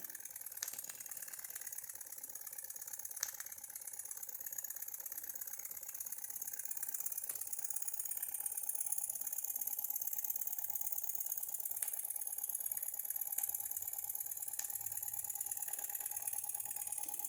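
A small engine runs quietly and steadily with a fine, even mechanical ticking and faint periodic clicks, close by with no talking.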